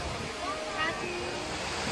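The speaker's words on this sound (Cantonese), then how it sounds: "你就會見到睇到個蘇科瀑布啦" Steady rushing roar of a waterfall at Baofeng Lake in Wulingyuan, a continuous wash of falling water that holds an even level throughout.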